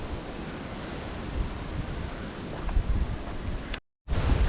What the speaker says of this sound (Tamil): கடல் சத்தம் கேட்குதுங்களா?